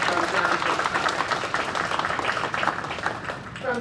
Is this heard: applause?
yes